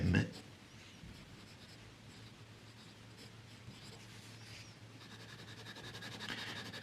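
Nib scratching across paper from a Kaweco DA2 fountain pen with medium nib, laid down in Pilot Black ink; a faint, steady scratchy rustle continues throughout with a brief louder bump at the start and slight swelling near the end.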